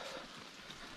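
Steady rain falling outdoors in Germany, a dense, even hiss of drops that stays constant and fairly close throughout, with no talk over it.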